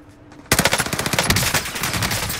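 A rapid burst of automatic gunfire erupts in a Fortnite Reload match after a brief quiet moment, then rattles on loudly in quick, uneven repeated shots to the end.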